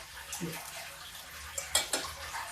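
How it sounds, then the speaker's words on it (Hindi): Spices are stirred into whole masoor dal in a pot, giving faint metal scrapes and a few soft clinks of a spoon against the pot, close and quiet. "ये सारे मसाले एक बार इस दाल में मिक्स हो जाए।"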